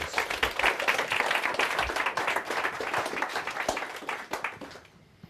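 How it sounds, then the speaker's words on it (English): A stage audience at a mentalism show gives a big round of applause, with dense, steady clapping that fades away near the end. "Give Anita a big round of applause."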